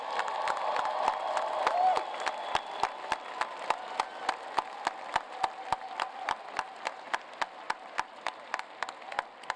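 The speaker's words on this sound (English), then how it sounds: "How about another round of applause for all of them?" A commencement ceremony crowd for engineering graduates applauds with cheers, the dense clapping thinning after about two seconds into a few sparse, evenly spaced claps that continue to the end.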